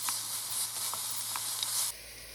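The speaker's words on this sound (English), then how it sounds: "I'm going to drop in our cumin seeds, our chilies, and some onions" Cumin seeds, chilies and onions sizzle in hot oil with a steady bright hiss, while a utensil gives a few soft stirring taps; the sizzle cuts off abruptly near the end.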